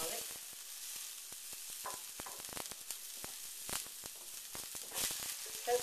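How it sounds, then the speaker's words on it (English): Garlic frying in olive oil in a pan while romesco sauce is made, a steady soft sizzle with scattered sharp crackles and pops throughout. "Don't fry the garlic very long because it gets bitter very quickly."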